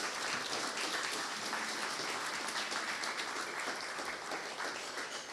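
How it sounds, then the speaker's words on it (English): A fundraising brunch audience applauds the staff with sustained clapping, steady and fairly soft as if heard from a distance, lasting several seconds without a pause. "I just wanted to give them a round of applause for all the staff."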